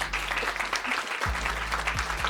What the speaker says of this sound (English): I think once more a big round of applause, guys.